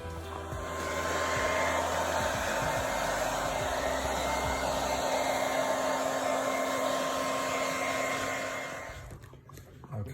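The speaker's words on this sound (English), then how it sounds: "Going to get a hairdryer and dry it out" A hair dryer runs steadily for about nine seconds, blowing on a damp leather heated car seat during repair, then switches off near the end; the whirring blower stays loud and close with no talking.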